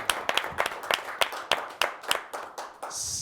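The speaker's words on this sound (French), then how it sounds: "je demanderais une main d'applaudissement pour Rénal" Applause at a Chandler town council meeting, a small group clapping in a sparse, fairly regular rhythm of distinct claps before stopping.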